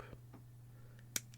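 A single sharp snip of cutters cutting a plastic model kit part from its sprue, one brief click near the end over a quiet room hum, with a fainter tick earlier.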